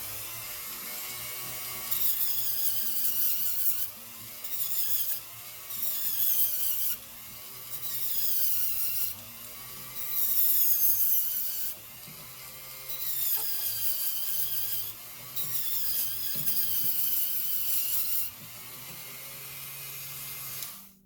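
Rotary tool sanding a wire-wrapped gallery wire pendant with 80 to 220 grit, a high buzzing whine that rises and falls in repeated bursts of a few seconds each.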